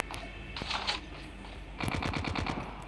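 Rapid automatic gunfire from a Call of Duty firefight, one short burst early on and then a steady, loud stream of shots rattling close by with no talk over it.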